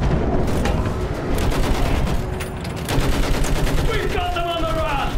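Rapid machine gun fire from the World War I game Battlefield 1 runs continuously through the trenches, with shouted battlefield voices and other gunfire layered underneath.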